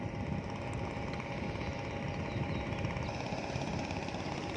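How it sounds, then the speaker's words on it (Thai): A longtail fishing boat on the Pattani River runs past with a steady, loud engine drone that holds evenly throughout, no voices heard. "เรือหางยาวลำที่แล่นผ่านหน้าเราตัวนี้ครับ เป็นเรือชาวบ้านประมง"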